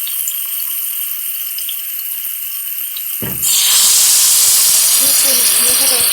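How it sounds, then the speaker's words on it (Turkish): Hot water poured over meatballs in a pan for Turkish sulu köfte, a sudden loud hiss and rushing splash cutting in after a steady background hum, then continuing with bubbling crackle. "Üzerine sıcak suyunu koyacağım arkadaşlar."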